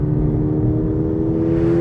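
A front-engined four-cylinder sports car, with a six-speed manual and rear-wheel drive, being driven on a track, giving a steady, loud engine drone and whir that holds constant throughout.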